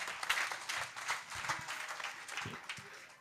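A church congregation at an evangelistic healing and deliverance crusade applauds, a faint, steady patter of scattered hand claps with a few stronger individual claps.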